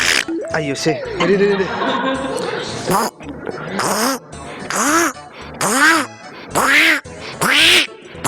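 A person imitates a male duck with a run of about six loud, nasal quacks in a steady rhythm. A brief exclamation and some chuckling come before the quacks.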